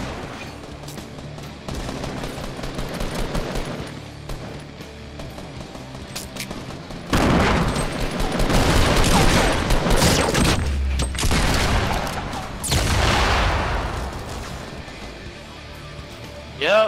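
Gunfire from a marksman rifle in a squad-based video game rings out in sharp bursts and scattered shots over a continuous game soundscape, with players talking throughout.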